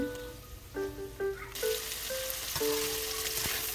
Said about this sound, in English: and stir and fry them for about a minute